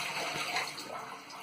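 Water dumped out of a formicarium after soaking, a short close rush of pouring liquid that fades within a second or two.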